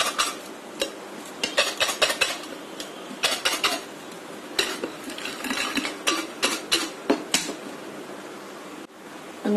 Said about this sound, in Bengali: ঢেলে দিয়ে এই বাটির উপরে একটা প্লেট দিয়ে এভাবে ঝাঁকিয়ে নিব।